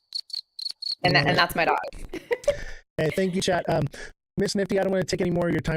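Cricket chirps from a soundboard effect repeat in short bursts at the start, then keep going faintly under people talking.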